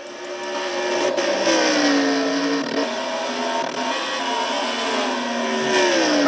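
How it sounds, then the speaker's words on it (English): Stock car engine revving hard during a night race at Bristol, a loud sustained whine with rising and falling pitch as a car races past, steady throughout with no voices. "Heard the motor kind of over-rev a little bit on the 5-car."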